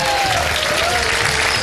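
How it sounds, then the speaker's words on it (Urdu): Studio audience applause fills the whole moment, a dense, loud, steady clapping from a large crowd with no pause. "تالیاں بجا دیں جناب."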